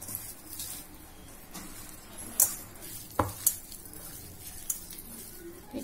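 Ginger-garlic-chilli paste with turmeric and salt being mixed in a pan for vada pav filling: a few soft, sparse scrapes and clicks of a spoon over a quiet, faintly hissing background.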